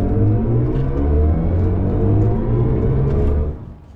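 Cabin view of a 601-horsepower BMW i5 M60 electric car accelerating hard. A loud, steady low rumble and whir fill the car, then drop away sharply near the end.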